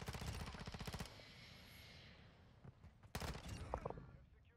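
Automatic gunfire in the Modern Warfare video game: a rapid burst of close shots opens, then a quieter stretch and a second short burst with scattered single cracks, faint speech-like sounds in the background.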